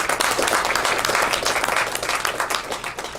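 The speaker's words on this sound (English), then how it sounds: "one last round of applause for our recipients" An audience at a mechanical engineering alumni panel gives a round of applause for award recipients, loud, dense clapping that holds steady and thins slightly at the close.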